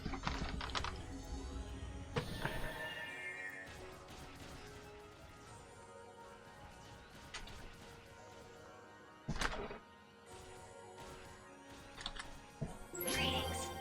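Typing on a computer keyboard during Phantasy Star Online 2 on Xbox One: quick bursts of key clicks and taps, with a few sharper clacks and thumps, fairly quiet and close.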